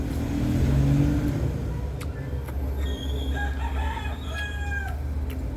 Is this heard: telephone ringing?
no